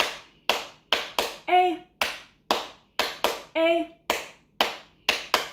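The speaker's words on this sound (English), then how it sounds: "So we're going to clap our hands 5 times and a little bit faster." Hands clap in a steady, quick rhythm during a children's early literacy class, a bright burst of claps repeating, with a voice singing letter sounds between them.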